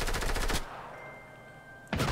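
Rapid automatic gunfire in the video game Fortnite, loud dense bursts at the start, a quiet stretch with a faint tone, then another burst at the end; no one talks.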